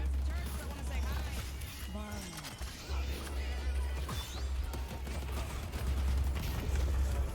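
Rapid gunfire-like bursts from turrets in the hero shooter Deadlock, loud and dense over constant game noise and music, with a player talking over the action.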